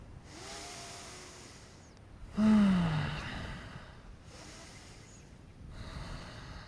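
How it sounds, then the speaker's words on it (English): Slow, deep qigong breathing, with a long audible inhale and exhale in separate breaths across a few seconds, close and soft against quiet room tone and no talking. "Inhale up, exhale down."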